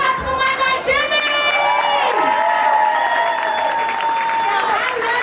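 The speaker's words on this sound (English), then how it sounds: "Everybody start clapping for my guy, Jimmy!" A comedy roast audience bursts into clapping and cheering, dense applause with shouts and whoops filling the room throughout, while a voice carries over the crowd.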